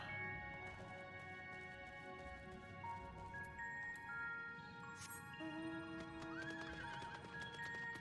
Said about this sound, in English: riding a horse through catacombs